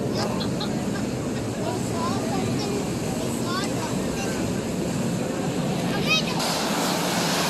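A Sydney ferry under way on the harbour, its engine drone and churning wake water forming a steady, loud wash throughout, with faint voices and a brief high squeak in the background.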